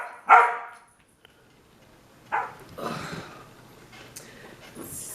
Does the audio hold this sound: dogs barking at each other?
yes